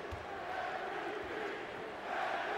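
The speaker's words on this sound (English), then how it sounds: "MVP from the crowd in Washington" A basketball arena crowd in Washington during a Celtics vs Wizards game chants MVP as free throws are taken, a steady, loud, roaring wash of many voices throughout.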